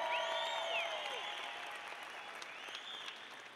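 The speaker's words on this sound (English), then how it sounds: "Big round of applause for Mike and Bob Bryan" Crowd applause at the SAP Open tennis tournament welcoming the top-seeded doubles team, a steady wash of clapping that tapers gradually over a few seconds with no speech.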